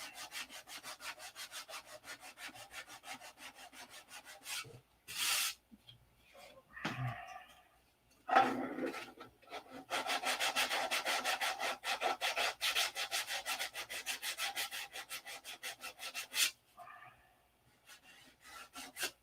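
A doped surface on a P-47 model is sanded by hand, with rapid back-and-forth rasping strokes in bursts, the longest a sustained run of several seconds, with short pauses and bumps between.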